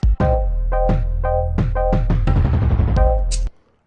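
Jungle-style drum beat programmed in DubTurbo, with punchy kicks, snappy snares and tonal hits in a quick syncopated pattern, loud and upfront, ending abruptly.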